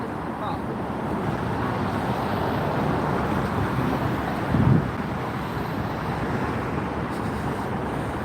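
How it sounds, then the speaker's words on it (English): Heavy roadway traffic drones continuously on the Brooklyn Bridge in New York, a dense wide rumble mixed with wind buffeting the microphone, with one brief louder thump partway through. "The traffic is tremendous."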